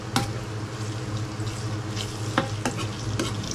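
Chili, garlic and onions sauté in a pan with a steady sizzle and frying crackle, while a spoon scrapes and taps against the pan with a few sharp clinks, close by.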